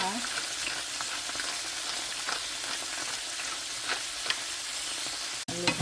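Water spinach stems sauté in a hot pan with soy sauce for adobong kangkong, a dense, continuous close-up sizzle with faint crackles throughout and a brief clink near the end. No one speaks.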